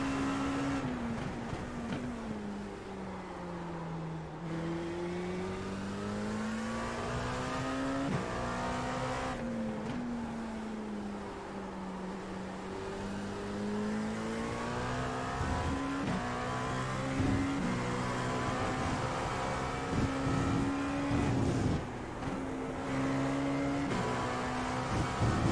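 GTE race cars in the iRacing sim at Barcelona roar past in a continuous engine drone, pitch rising and falling through gear changes and revs, with a faint tire squeal and no talking.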